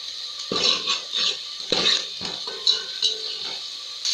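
Kadhi mixture of buttermilk and besan being stirred continuously in a pot over low heat, a spoon scraping and knocking against the metal in uneven repeated strokes with light clinks, close and clear.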